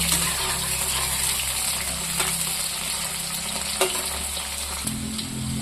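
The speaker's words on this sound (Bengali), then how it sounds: "এখানে কড়াইতে ভাজা করতে দিয়ে দিয়েছি। ভিন্ডিটা এরকম ভাজা করে বার করে নেব।" Okra fries in a kadai, a wok, with a dense, continuous sizzle of hot oil, occasional stirring clicks and a low steady hum beneath.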